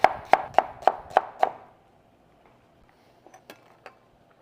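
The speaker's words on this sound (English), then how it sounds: "I'm gonna go through cut, cut, then we're gonna do an over the rainbow style. And I'm gonna go over with my knife" Knife chopping onion on a cutting board for street tacos, six quick evenly spaced sharp chops up close, followed by a few fainter taps after a short pause.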